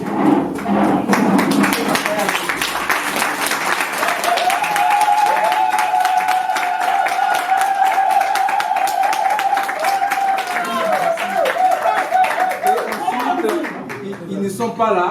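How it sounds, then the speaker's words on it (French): Standing audience at an Africa Conseils Group company presentation applauding the director general, brisk clapping from a modest crowd heard close, with a sustained tone and voices running underneath. "on se lève pour applaudir pour le directeur général."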